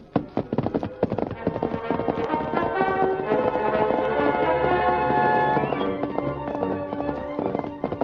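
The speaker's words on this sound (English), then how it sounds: "the Lone Ranger set out in the darkness on his great horse, Silver." Rapid clip-clop of hooves galloping steadily over a rich, busy musical backdrop, loud and continuous throughout.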